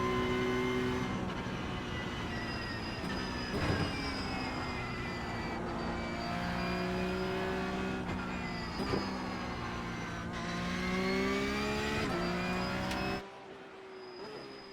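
A Porsche 911 Cup (992.2) race car engine in iRacing at the Nurburgring drones loudly and continuously, rising and falling as the throttle lifts and reapplies through corners, before dropping to a quieter idle near the end.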